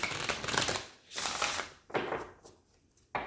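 A deck of quantum oracle cards being shuffled by hand, heard as a few brisk riffling, fluttering bursts separated by short pauses, close and fairly quiet.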